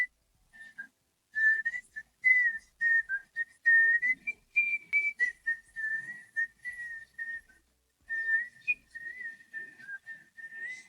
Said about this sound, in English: let's not forget that haunting whistle at the end